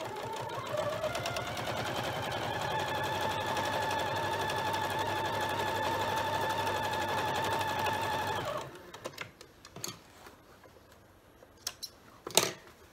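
A sewing machine runs steadily for about eight seconds, edge stitching a quilt-as-you-go strip-pieced table runner with batting, then stops and leaves a few faint clicks and handling sounds.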